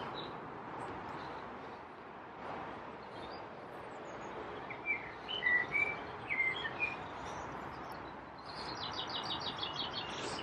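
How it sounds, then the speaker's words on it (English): Birds chirp and tweet outdoors on the Hessle Foreshore in England, short bright calls scattered over a steady background hiss, with a quick trilling burst near the end. "All you can hear is the birds."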